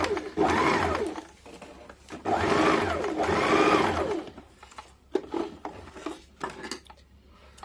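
A sewing machine stitches a net sleeve onto a blouse in bursts of steady whirring, two long runs followed by shorter stop-start stitching, close and fairly loud.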